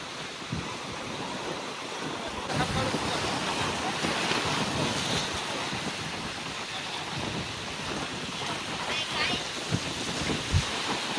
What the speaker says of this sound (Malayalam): 3 കടലിലെയും വെള്ളമാണ് ഈ ഒരു പോയിന്റിൽ ഒന്നിച്ച് അടിക്കുന്നത്